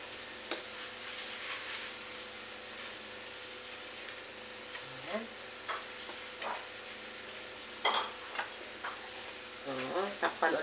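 Buttered garlic shrimp sizzles steadily in a pan, with a few clattering knocks and scrapes as the pieces are flipped over; a voice speaks briefly in the background.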